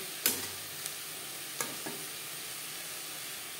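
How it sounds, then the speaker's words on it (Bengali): Onions and tomatoes fry in a little oil for a potato chicken curry, giving a faint, steady sizzle broken by a few sharp clicks and taps of a spoon against the pan, close and quiet, with no talk. "পেঁয়াজ টমেটো হালকা করে ভাজা হয়ে গেছে।"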